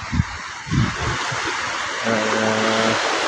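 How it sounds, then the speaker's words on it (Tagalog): Strong sea waves wash steadily in a broad, loud rush of surf at a shoreline, with low thumps early on and a mechanical hum joining near the end, no voices. "Sobrang lakas ng alon, lumitaw sila."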